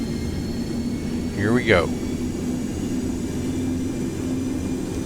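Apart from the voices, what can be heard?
Boeing 727-100 rolling takeoff engines in X-Plane 12 video game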